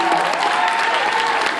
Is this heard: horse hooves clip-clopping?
no